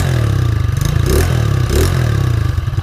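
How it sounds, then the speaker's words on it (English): A big bore 100cc scooter engine with a lightly baffled exhaust runs loud and close, a rapid pulsing putter that rises in two brief revs before settling back. "The exhaust doesn't have much baffling in it"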